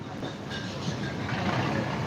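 A steady rumbling rush of a passing BTS Skytrain in Bangkok with faint clatter, continuous and moderately loud across the whole stretch, over diffuse outdoor city background near a busy bridge.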